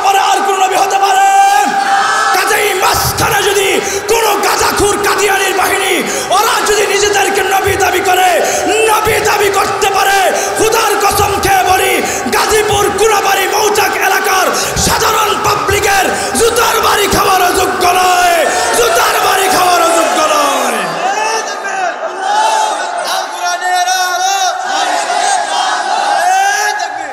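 A large crowd at a religious gathering chants slogans loudly and steadily for a long stretch, with many voices rising together in rhythmic shouts. Near the end the chanting drops back and single voices are left.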